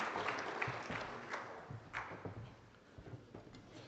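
Audience applause for 13 4-H Quiz Bowl teams at a livestock judging awards event, a steady wash of many hands clapping throughout, moderately distant and fairly faint.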